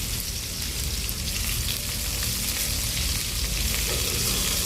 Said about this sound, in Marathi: त्यानंतर बटाटे बाजूला केले की आपण जिरे टाकायचे. जिरे पहिले टाकायचे नाही, नाही तर ते जळून जातं. आता टाकायची मिरची.